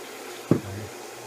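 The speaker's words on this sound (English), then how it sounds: "I'm going to start pouring the beer in." Beer poured into a cooking pan with orange zest and orange, a short splash followed by a brief low gurgle, close and fairly quiet.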